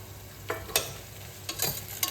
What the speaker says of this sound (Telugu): ఇవి కూడా ఎర్రగడ్డ ముక్కలు కొంచెం బాగా కలర్ వచ్చే వరకు వేయించుకుందాం